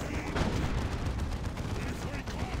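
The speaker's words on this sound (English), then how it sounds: "That Nob Squad eating a big hit from that plasma cannon" Plasma cannon fire and battle din in Dawn of War 2: Retribution, dense rumbling blasts and crackling impacts packed closely together, steady and moderately loud without pause.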